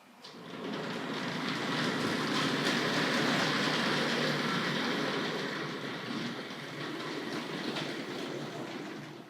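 A Hornby Dublo model tank locomotive, the Barnstable, pulls a very long train along toy track. It makes a continuous close rattling, clicking run of wheels on rail that swells and then eases slightly.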